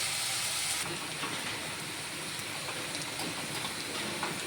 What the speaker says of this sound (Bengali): এখন আমি এটা হালকা আছে ভেজে নেব